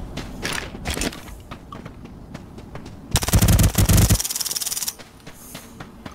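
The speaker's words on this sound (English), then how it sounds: "Taking him out with the silencer" Silenced gunshots in Ring of Elysium, a rapid burst of muffled, clattering shots lasting about a second, with scattered softer thuds and movement noises around it.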